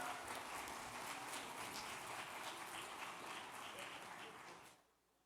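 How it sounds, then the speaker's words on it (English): A conference keynote audience claps in a steady, dense burst that fades out quickly near the end, leaving near silence. "So let's give her another round of applause."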